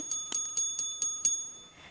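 A bright notification bell chime for a subscribe button, struck about six times in a quick, even rhythm with ringing metallic overtones, close and clear with no voices.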